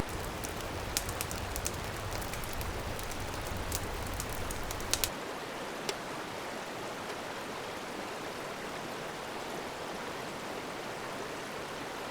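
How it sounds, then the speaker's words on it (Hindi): Steady rain patters on a campsite tent in Pahalgam, Kashmir, a dense continuous hiss with scattered sharper drop ticks early on and no voices. "बारिश चालू हो गई है"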